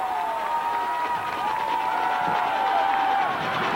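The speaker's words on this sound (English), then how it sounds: "coming out of the game here to a nice round of applause" Crowd noise at a 1992 high school sectional football game as a player leaves the field, a steady broad roar of cheering and applause from the stands with a whistle-like tone running through it.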